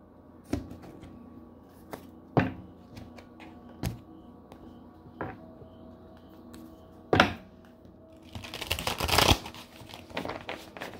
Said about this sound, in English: Three shuffles, energy oracle